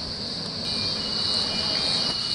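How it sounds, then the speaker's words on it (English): A passenger train departing a station platform at Tahmoor, a continuous rumbling roar with a steady high-pitched whine over it, close and constant throughout. "is now departing platform number 2 on our Moscow service"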